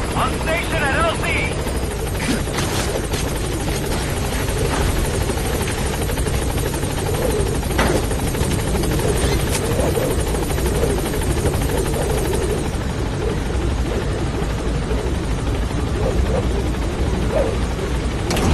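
In Metal Gear Solid V, the B-Quad support helicopter hovers at a landing zone, its rotor a loud, constant, dense thrum filling the scene throughout, with brief radio chatter over it.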